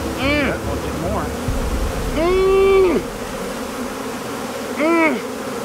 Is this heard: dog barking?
no